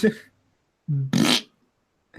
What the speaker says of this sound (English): You're at home alone and you hear a fart.